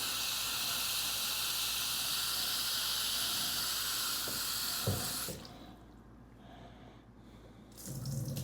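Water pours steadily from a tap into a container while prison food is being cooked, a continuous hissing rush that stops abruptly, leaving a quieter room tone before a brief resumption.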